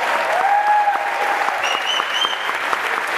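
An evening gala audience applauds for athletes with steady, dense clapping that fills the room, joined by a few whoops and whistles.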